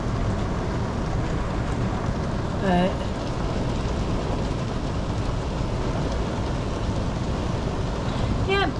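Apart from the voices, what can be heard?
wind-driven rain in a storm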